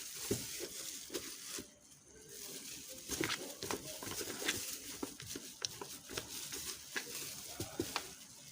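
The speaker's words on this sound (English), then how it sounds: "That's why I'm mixing." A liquid soap mixture made with oil is stirred by hand, giving a steady run of soft knocks and wet sloshing taps at an irregular rhythm. It is fairly faint and close.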